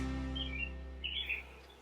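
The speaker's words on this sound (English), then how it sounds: "I'm so sorry if you guys hear birds chirping in the background." A few faint bird chirps sound in the distance over a steady low hum, quiet and sparse.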